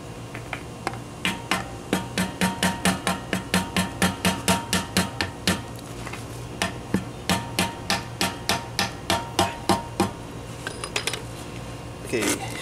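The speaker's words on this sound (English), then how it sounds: "Take your screwdriver and you want to find your spot to start splitting your cover loose from" A screwdriver tapped against a Dana 35 differential cover to split it loose on a Jeep Wrangler YJ, a rapid series of sharp metallic knocks in steady bursts, fairly close, pausing briefly midway before resuming.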